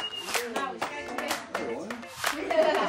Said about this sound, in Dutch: Mag ik even een applaus voor de jongste kok?